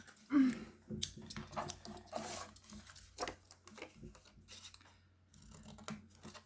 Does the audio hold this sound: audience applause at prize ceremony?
no